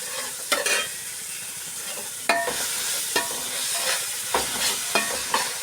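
Ginger garlic paste and garam masala being stir-fried in a pan with a ladle, a loud continuous sizzle punctuated by several distinct scraping and clanking stirs spaced a second or so apart; no voices.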